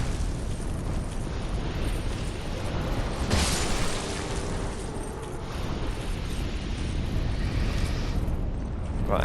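An enemy blows up in Dark Souls 2, a loud rumbling burst that rolls on in a sustained, noisy roar with a sharper crack partway through.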